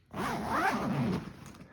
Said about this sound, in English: You've got a dual zipper up top here.